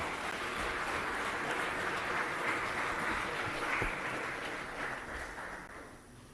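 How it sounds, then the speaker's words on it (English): An audience of diplomats applauds after a speech by the Ambassador of the Union of Comoros, Dean of the Diplomatic Corps, at a presidential gathering in Tanzania, with steady, distant-sounding clapping that fades toward the end. "Please, another round of applause to the Dean of the Diplomatic Corps and the Ambassador of the Union of Comoros."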